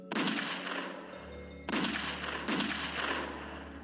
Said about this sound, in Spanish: avanza por detrás y le dispara 3 tiros por la espalda.